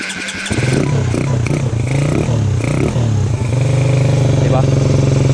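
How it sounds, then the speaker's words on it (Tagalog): Motorcycle engine revving after a jetting change and full carburetor tuning, loud and close with a steady idle rising into strong revs throughout. "Lagyan lang natin ng konting rev."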